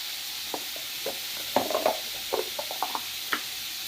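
Spice mix and turmeric added to hot oil in a pan, giving a steady soft sizzling hiss with scattered scraping taps from stirring, close and fairly quiet, with no talking.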